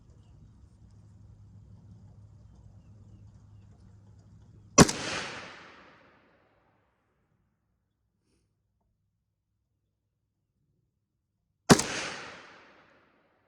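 Riley Defense AK-47 rifle fired twice, each a single loud, sharp shot with a brief echoing decay, separated by several seconds of silence after a low hum.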